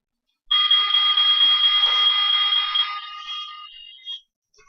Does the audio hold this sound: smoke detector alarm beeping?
yes